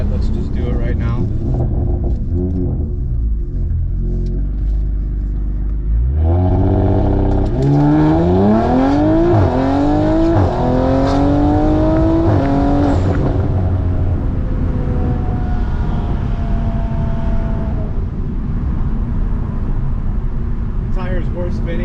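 Modified Audi RS5 in sport mode accelerating hard with tires spinning, engine roaring louder and climbing through rising pitch sweeps as it pulls, then settling into a steady cabin drone.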